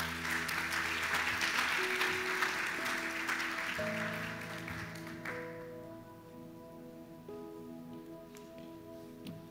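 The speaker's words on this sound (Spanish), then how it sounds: "Le recibimos un aplauso también." An audience at a church Bible gathering claps, a busy patter of applause that fades after a few seconds, leaving steady musical tones and a quiet room.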